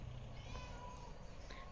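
A cat meows faintly in a rural village home in Barmer, a short soft call over low background noise.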